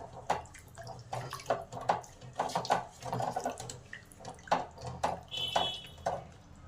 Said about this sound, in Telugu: చూడండి, తగినన్ని నీళ్ళు పోసుకుందాము.